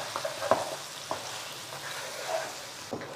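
Coriander, turmeric and cumin powders roasting in a pan for aloo gosht, with soft sizzling and a few scraping stirs of a spoon, quiet and close with no talk.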